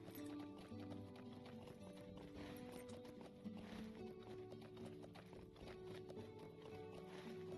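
Horse hooves clip-clopping in a steady galloping rhythm in the video game LOTRO (Lord of the Rings Online), continuous and close, with layered in-game ambience and a brief whinny-like tone.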